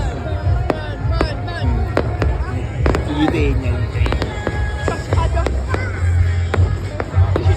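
Fireworks go off with a string of sharp pops and crackles over a steady low rumble of crowd noise, with voices talking and calling throughout.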